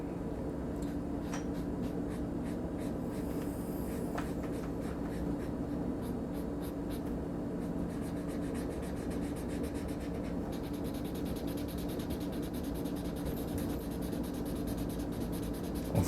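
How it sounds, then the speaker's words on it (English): Markers scratching and rubbing across paper while coloring, a soft, close, continuous stroking texture with quick repeated strokes and faint squeaks, steady and quiet with no talking. "markers have such a distinct tactile sound too"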